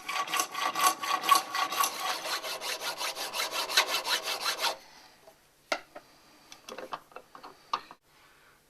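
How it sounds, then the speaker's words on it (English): Rapid, steady rasping strokes of a saw cutting the thread off a metal pipe union for several seconds, then stopping, followed by a few scattered scrapes and clinks of filing. "sawing off the thread that we don't want and then filing the surface flat"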